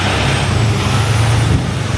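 A truck rumbling past on a wet city street in Brooklyn, loud and close, with a deep low engine drone and a brief tonal hum mid-pass over broad road and tire noise, with no voices.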